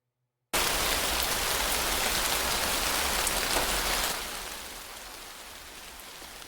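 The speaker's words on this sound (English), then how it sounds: "Let me turn that down. That rain is loud." Heavy rain from a short film's soundtrack pours in a dense, loud, steady hiss. Partway through it drops noticeably in volume, as if turned down, and continues more softly without speech.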